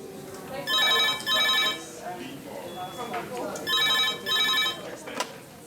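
A red emergency phone in a hospital A&E department rings in two paired bursts of bright electronic trilling, separated by a gap filled with background chatter.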